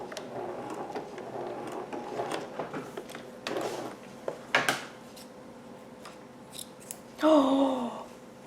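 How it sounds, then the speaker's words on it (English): Scissors snipping while cutting fabric and clipping a thread during sewing, giving several quick, sharp cuts close by, with soft rustling of cloth and a brief vocal exclamation near the end. "I just cut my fabric. Just trying to clip that thread."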